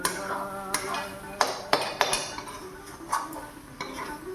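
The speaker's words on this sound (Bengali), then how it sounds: "যাতে মাঝখানে না লাগে সেজন্য এমনি করে নাড়াতে হয়" Milk cream is stirred in a pan to make ghee, and a metal spoon scrapes and clinks against the pan in quick, uneven strokes, close and fairly loud, with no voices.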